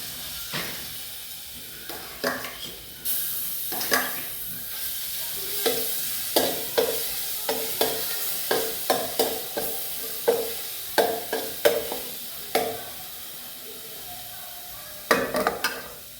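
Ginger and garlic fry in a pan, a constant close sizzle broken by a regular series of spatula stirs and scrapes, about one every second, with no talk.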